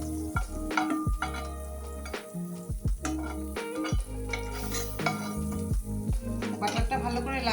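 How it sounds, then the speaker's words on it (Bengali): Butter in a hot wok, heard as a close, lively sizzle broken by repeated metallic scrapes and clanks of a spatula against the pan, with no talking. "কড়াইটা গরম হয়ে গেছে, এখন আমি তাতে দিয়ে দিব বাটার।"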